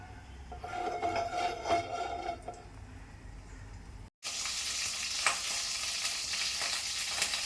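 Mustard seeds sizzle and crackle in a little hot oil in a pan, a dense, close frying hiss that breaks briefly and then returns brighter and steady.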